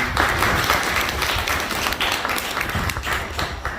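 An audience at a Punjabi theatre play at Azad Rangmanch Kala Bhawan, Phagwara, applauds the theatre team with dense, sustained clapping that stays loud and even throughout.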